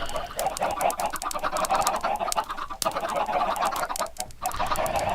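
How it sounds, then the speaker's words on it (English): A large flock of chickens clucks and squawks in an agitated chorus, loud and close, with overlapping calls all the way through. "Yes, this is pretty much full chicken meltdown."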